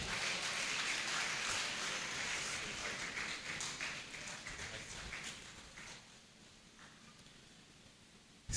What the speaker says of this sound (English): Please let us clap him forward